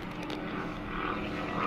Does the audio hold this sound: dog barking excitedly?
no